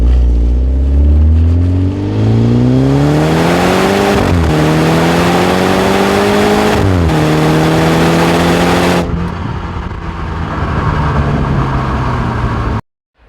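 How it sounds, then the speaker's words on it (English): A 2016 BMW 220i F22 coupé with a 2-liter four-cylinder engine in Sport Plus revs loudly and close, pitch sweeping up and down through several throttle blips, with exhaust crackle before it cuts off abruptly. "This car, this 2-liter 4-cylinder engine really has a little crackle on it."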